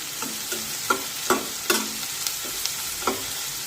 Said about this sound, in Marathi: कांद्याला सतत परतत राहायचं, म्हणजे मग सगळीकडून तो एकसारखा परतला जातो, व्यवस्थित शिजला जातो